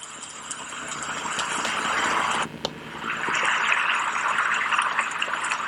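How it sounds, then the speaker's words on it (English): An EyeOasis 2 eye massager plays its rain sound setting, a steady hiss of falling rain that runs throughout, breaks off for a moment and then resumes at a moderate level, with no talking. "Just sort of like a rain setting this one is."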